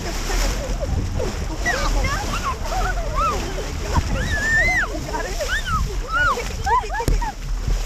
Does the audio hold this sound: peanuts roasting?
no